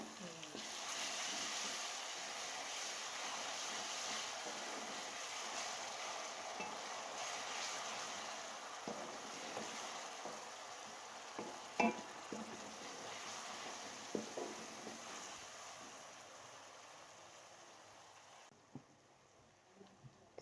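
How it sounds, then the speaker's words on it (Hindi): Garlic-ginger paste sizzling in hot oil in a pan while chicken biryani is cooked, a steady soft frying hiss with occasional clicks and faint clatter of utensils, fairly quiet and close. "लहसुन अदरक का पेस्ट डाल देंगे।"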